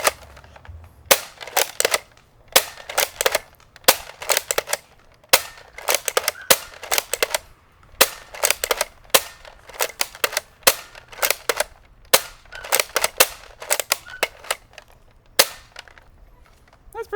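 A Nerf blaster modified with a 10lb spring fires darts in a long series of sharp, snappy cracks, grouped in quick bursts with short pauses between, fairly close and alone.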